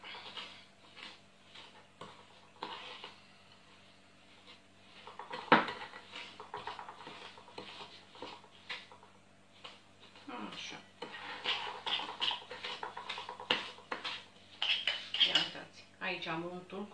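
In a home kitchen, butter, sugar and rum essence are stirred in a bowl, a utensil clinking and scraping against the dish in irregular bursts, quiet at first and busier later.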